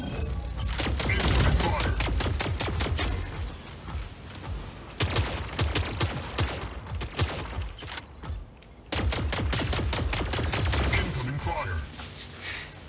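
Rapid bursts of gunfire from mech weapons in the video game Mech Arena, loud and dense, with sharp repeated volleys and brief pauses between strings of shots.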